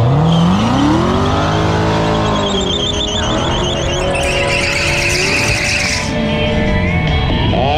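A Tesla drag races a roughly 650-horsepower Corvette. A loud engine rises through revving shifts as both cars launch and tear down the strip, with high whine and a roar from close by.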